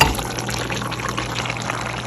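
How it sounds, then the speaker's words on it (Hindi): Pasta is tipped into a pot with a little water and masala for a chicken masala pasta, giving a loud, continuous watery sizzle and bubbling close by. "ये देखिए मैंने पास्ता डाल दिए।"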